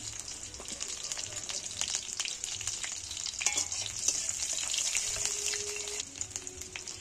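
Chopped green chillies and nigella seeds fry in hot oil with a steady close sizzle and occasional stirring scrapes, no voices.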